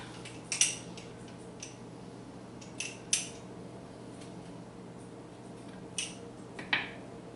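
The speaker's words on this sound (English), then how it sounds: "I'm gonna squeeze my garlic just right into that" Garlic is squeezed through a metal press into butter, giving several sharp metallic clicks and small squishes spaced a few seconds apart over a quiet kitchen background, with no talking.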